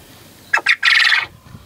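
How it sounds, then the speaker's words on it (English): A small quail rooster in a large outdoor enclosure crows with two quick clipped notes and then a longer strained call, loud and close, with no talking. "Got another little rooster over in the big enclosure making noise"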